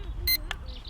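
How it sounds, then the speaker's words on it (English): A Matavish 3 brushless GPS camera drone's remote controller sounds a short, bright calibration beep, followed by a second brief tone, close and clear over a quiet background. "So rotate clockwise until it beeps."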